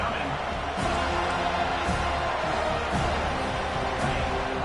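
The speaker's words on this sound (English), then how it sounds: "this crowd is tearing the lid off this place" A packed stadium crowd at a Texas A&M versus FSU college football game roars steadily on third down, a dense, sustained wash of cheering with faint rhythmic thumps, heard from within the stands.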